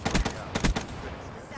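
Rapid gunfire in Black Ops 3 multiplayer: two quick bursts of loud, punchy shots close together, then a fading tail of game ambience.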